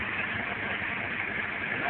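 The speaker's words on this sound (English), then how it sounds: "The engine works." A rebuilt engine in a 1997 Honda Civic idles with a steady, loud rumbling hiss, constant and close with no variation.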